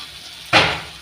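Fresh dill leaves hit a hot frying pan with a sudden broadband sizzle that starts abruptly partway through and slowly fades, heard up close with no talking.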